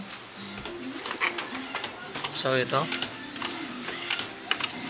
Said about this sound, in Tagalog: Tapos sa pangalawang printer.